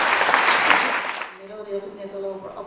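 A talk show audience gives a burst of applause that fades after about a second, followed by a host's voice speaking.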